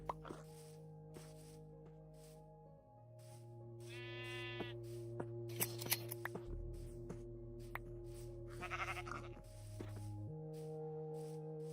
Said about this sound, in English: Just get some sheep.